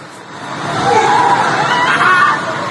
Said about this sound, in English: The sounds of screaming can be heard.